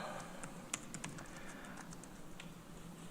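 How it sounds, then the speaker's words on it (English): Someone types on a computer keyboard during a planning committee meeting, a steady patter of light, irregular key clicks heard faintly at a distance over a low background hum. "realize you were typing"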